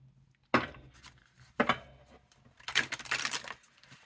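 A tarot deck with smooth, lightly sheened cards is shuffled by hand, with three separate riffle bursts, a brief one, a second brief one, then a longer flurry, close and clear with no talking.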